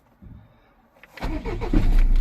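A Fiat Scudo van with a glow-plug diesel engine cranks briefly after a soft click, then catches and settles into a loud low rumbling idle close by.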